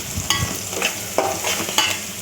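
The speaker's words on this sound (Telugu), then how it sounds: "కొత్తిమీర వేసుకొని బాగా కలుపుకోవాలి." A spatula stirs egg fry with fresh coriander in a frying pan, giving scraping strokes every half second or so over a low steady sizzle, close and clear.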